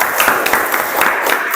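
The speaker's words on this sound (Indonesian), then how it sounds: "Tepuk tangan semuanya." Applause from an audience of students in a classroom, a dense continuous wash of many hands clapping at steady loudness for a short stretch with no talk.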